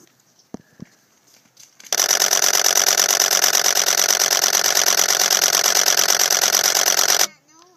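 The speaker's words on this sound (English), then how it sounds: "That noise was the shutter" A Canon EOS 1DX camera shutter fires in a long continuous burst, rapid even clicks running steadily for about five seconds and then stopping abruptly, close and loud after a few faint handling sounds.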